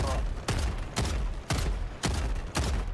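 Gunfire in Helldivers 2 comes as six evenly spaced loud bursts about half a second apart, each a sharp crack with a booming low tail, steady and close.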